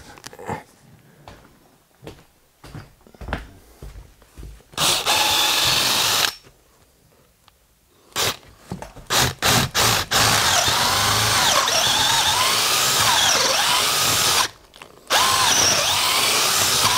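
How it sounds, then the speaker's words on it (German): A power drill whirs in loud, sustained bursts in a house under construction, with short stop-start pulses between longer runs and brief pauses of quiet. "Da ist der Bohrer."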